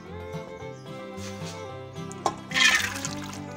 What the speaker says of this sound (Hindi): इस पानी में हमने दाल गीली की थी वही इसमें शामिल करेंगे।